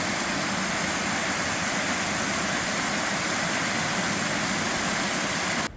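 Steady, broadband rushing of a small waterfall along a woodland trail, constant and fairly close, with no talking over it.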